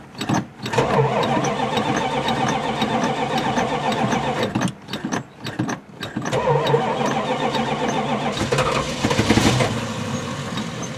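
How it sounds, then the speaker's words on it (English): An old retired Oklahoma highway patrol cruiser engine cranks and catches on starting fluid, running rough and loud with sharp backfires popping out the carburetor, brief stumbles and dropouts, then revving up again close by. "Backfire out the carburetor."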